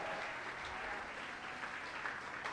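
A church congregation applauding, a dense, continuous patter of many hands clapping at a steady level throughout.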